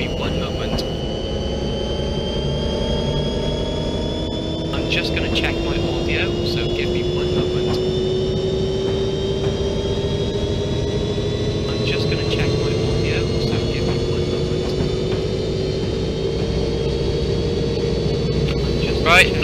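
A continuous diesel drone from an F40PH locomotive in a Pacific Surfliner train simulator, run at full power and accelerating, with rising engine tones held steady and loud throughout, over faint background noise.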